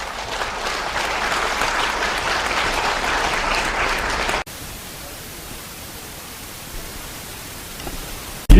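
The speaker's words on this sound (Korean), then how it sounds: "우리 열렬히 이제 박수로 맞이합시다" Lecture audience at a Korean history academy applauding to welcome the lecturer, dense steady clapping for about four seconds that cuts abruptly to quiet room hiss, with a short loud thump at the end.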